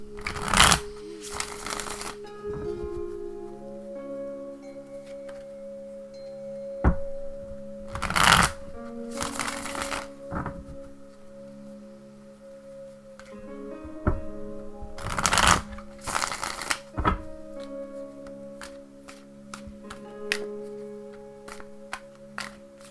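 A deck of tarot cards being shuffled at close range in several sharp riffling bursts, each followed by a pause with light handling and soft tapping of the cards, and no one speaking.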